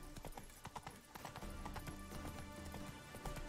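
Hoofbeats of a horse galloping in The Witcher video game, a steady rapid clip-clop running throughout at close range with game sounds layered around it and no talk.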